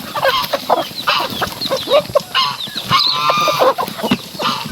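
Rhode Island chickens cluck and squawk continuously, several birds close by in a busy flock, with loud overlapping calls throughout.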